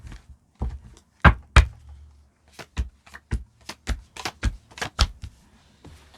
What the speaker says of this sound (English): I'm going to cut the deck here.